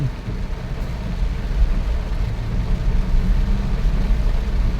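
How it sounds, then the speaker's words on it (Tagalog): Heavy rain drums steadily on a car driving along Marcos Highway, blended with a low engine and road rumble that stays close and constant throughout. "ngayon tayo ay inabutan na ng ulan sa lansangan"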